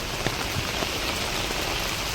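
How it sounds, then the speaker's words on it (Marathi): Heavy rain pours down in a steady, dense hiss with no voices, loud and close throughout, with faint drips and splashes breaking the even roar. "पाऊस लय बेकार जोरात चालू आहे"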